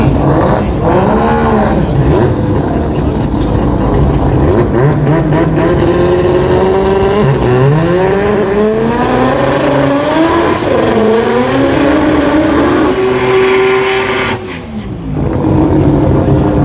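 A Mazda RX-7 rotary race car powers down the strip at a drag race meet, its engine screaming loud and close in one long, rising, wavering howl that briefly dips near the end.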